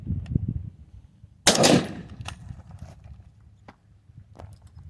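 A single rifle shot fired from a prone position outdoors, a sharp loud crack followed by a short decaying tail, with faint clicks and small handling noises of the shooter before and after.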